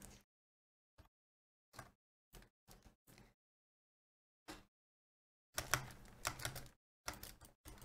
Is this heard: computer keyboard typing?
yes